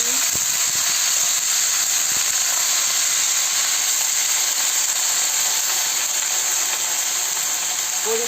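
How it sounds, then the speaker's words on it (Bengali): Cabbage, eggplant and potato frying in hot oil in a pan, a loud continuous sizzle and hiss with faint occasional scraping from stirring. "তেল গরম হয়ে গেছে, সবজিগুলোকে দিয়ে দিচ্ছি। দিয়ে ভালো করে নাড়িয়ে নিচ্ছি।"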